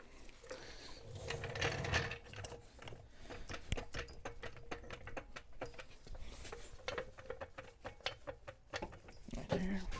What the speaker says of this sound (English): You put the jack on.